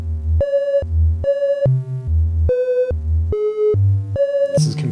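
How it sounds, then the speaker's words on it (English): Three analog eurorack oscillators play in unison through a quantized pitch sequence, stepping between clean sustained tones in a regular rhythm, each note pulsing with slow beating, loud and alone, ending in a short noisy burst. "we can hear them beating slowly across their pitch range."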